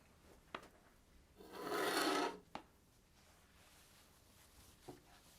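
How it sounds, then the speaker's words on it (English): A Higonokami knife blade rasps against a whetstone in a single close stroke of about a second, framed by a few sharp taps and knocks, in a quiet room. "The traditional way to sharpen a knife, or any other bladed tool, is by using a sharpening stone, or a whetstone, like this one."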